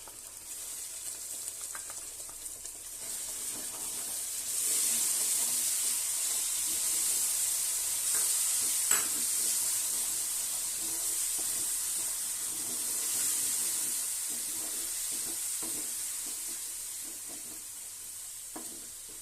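Ground green chilli paste sizzles and hisses in a hot pan, a steady close frying crackle that swells after a few seconds, with occasional stirring scrapes and no voices.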